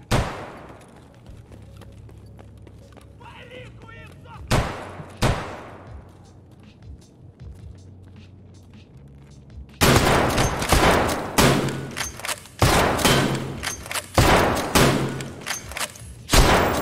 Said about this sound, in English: Dang it, I just panic shot a couple times.